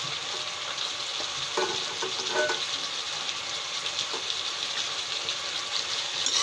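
Mixed vegetable sabji of brinjal, field bean seeds and potato sizzles steadily in a hot pan while being stirred, with scraping strokes over a continuous close frying hiss and no voices.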